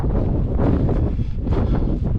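Strong gusty wind on a mountain summit in Scotland's Beinn a' Ghlò buffets the microphone in a loud, continuous roar, surging and easing in waves with no voices.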